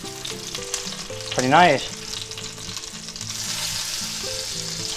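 Cheesy chicken ranch patties fry in a pan with a steady, soft sizzle running under background music; a voice briefly speaks, and a short, louder burst of sound rises midway.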